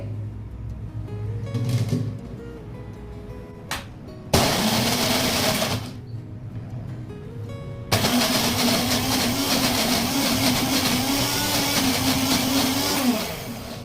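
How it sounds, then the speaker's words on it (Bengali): A kitchen grinder blends ridge gourd, prawns and dried chillies into a paste, running loud and steady in several bursts, with short pauses between runs. "এবারে এটা আমি পেস্ট করে নেব"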